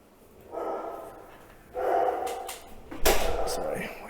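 A dog barks indoors in a few separate bursts spaced about a second apart, fairly close and moderately loud, the last bark the strongest.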